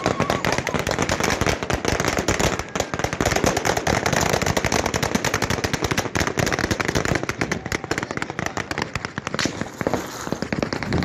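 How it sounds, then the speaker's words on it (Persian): Dense gunfire as armed guards shoot at people in Sistan and Baluchestan, with rapid, loud, overlapping bursts of sharp cracks running almost continuously, close and harsh, with no clear speech. "پاسداران که وسط بس سلاح میکشن به مردم شلیک میکنن"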